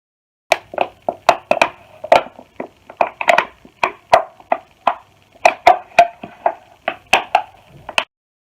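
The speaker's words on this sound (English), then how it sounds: "Scrunching of can, sound effect." Thin metal drink can crumpling close up, a long series of sharp crinkling cracks and crunches in an uneven rhythm, loud and with no voices.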